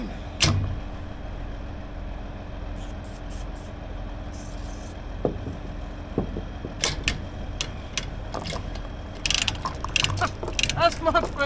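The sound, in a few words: ratchet being worked on a grain vac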